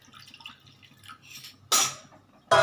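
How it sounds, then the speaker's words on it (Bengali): Spice-rinse water is poured from a small bowl into a cooking pot of cabbage with fish head, giving faint drips and two short, bright splashing pours near the end. "বাটিতে মশলাটা ধুয়ে জলটা দিয়ে দিই আমি।"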